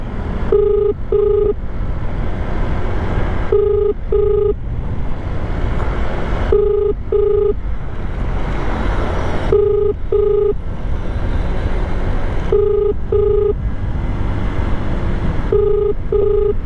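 Phone call ringing unanswered, heard from inside a moving car: paired electronic ring tones repeat in an even cycle about every three seconds, loud and near over steady road rumble.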